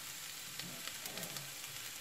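Beetroot and onions frying in a pan while being caramelised, a quiet steady sizzle with faint crackles and a few soft stirring taps, no voices.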